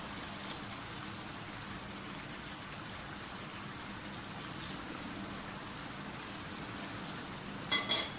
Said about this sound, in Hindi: अब इस टाइम आप इसे कोफ्ते शामिल कर दें